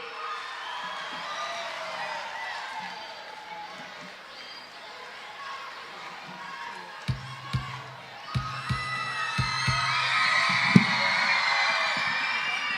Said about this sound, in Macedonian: Ајде аплауз